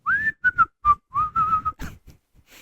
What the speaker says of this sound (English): And then he goes back to whistling.